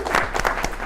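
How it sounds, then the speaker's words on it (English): Short burst of clapping from a crowd, dense and steady for under a second. "Can we get a round of applause"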